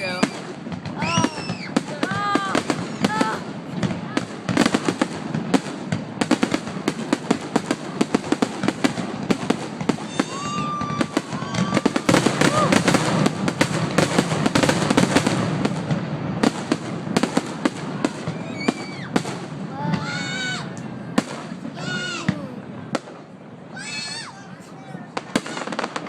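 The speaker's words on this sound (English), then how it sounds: "Fireworks show." Fireworks show with dense, continuous crackling bursts and pops, plus high whistling rockets rising and falling throughout, loud and close, with voices of onlookers mixed in.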